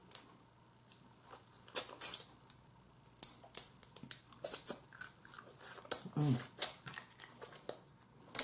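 Blue crabs are eaten up close, with scattered sharp bites and crunches of shell in irregular bursts, fairly quiet, alongside a low voice in places.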